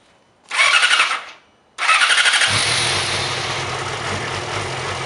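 A 2007 Yamaha R6 600cc sport bike with stock exhaust cranks with a whirring starter, pauses, cranks again and catches, settling into a loud, steady close-up idle.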